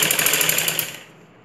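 A sewing machine stitches a belt onto a ladies' blouse, its needle running in a fast, steady rhythmic chatter for about a second before slowing and stopping, close and fairly loud.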